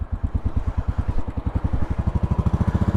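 A 2012 Royal Enfield Classic 500 single-cylinder engine idling, a loud, close, steady thumping beat of regular low pulses that quickens slightly toward the end.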